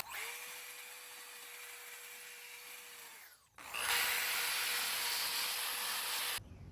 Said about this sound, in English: you can use a wire brush drill set if you have it